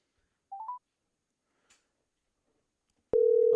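Telephone signals while a call is placed: a short trill of dialing tones, a faint click, then a loud steady tone starting abruptly near the end, with no talking.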